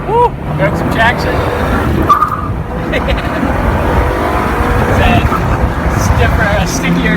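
Honda Civic EG with a B18B1 engine launching on a track, its engine roaring steadily and loudly throughout the clip with rising revs, while people speak over it inside the car.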